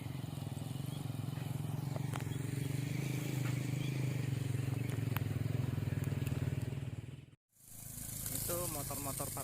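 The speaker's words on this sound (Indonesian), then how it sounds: "Motor-motor para petani yang pergi ke ladang ya." Farmers' motorcycles ride along a hiking trail in the countryside near Batam. A close engine drone holds steady for several seconds, then cuts off abruptly before quieter outdoor sounds return.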